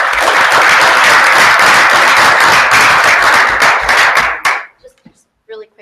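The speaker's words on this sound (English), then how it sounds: "one final round of applause for Council Rock and for Newtown Middle" Audience at a school board meeting gives a loud, close burst of sustained clapping that cuts off abruptly after about four and a half seconds, followed by near silence with a couple of faint sounds.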